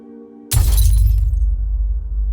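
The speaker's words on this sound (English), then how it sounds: "Wayne suddenly heard a noise of shattering glass" A sudden, loud crash of shattering glass in an animated horror story, a sharp burst of breaking shards over a deep rumble that rings out and decays into a low drone.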